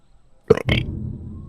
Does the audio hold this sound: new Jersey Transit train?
no